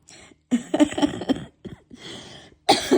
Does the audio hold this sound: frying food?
no